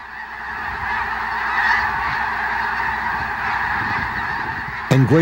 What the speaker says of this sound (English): There are Canada geese.